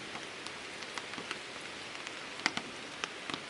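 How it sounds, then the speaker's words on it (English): Light rain falls on a hiking trail on the Superior Hiking Trail in fall, a soft continuous patter with scattered sharper drops tapping nearby, steady and gentle with no voices. "Maybe it'll stop raining in a bit."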